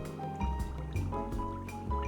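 Airbrush back flow with paint bubbling in the cup, a quick series of soft gurgling pops and bursts from air pushed back through the liquid, close and fairly quiet.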